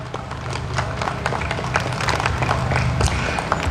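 Outdoor audience at a Hmong American Day 50th anniversary celebration claps in a steady, dense round of applause, many hands patter together at moderate distance and swell slightly toward the end.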